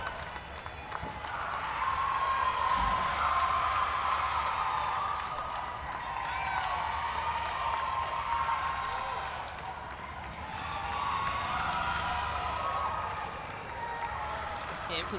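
A crowd at a girls' flag football state championship keeps up sustained applause and cheering, filling the space with a broad, even roar while an announcer's amplified voice carries over it.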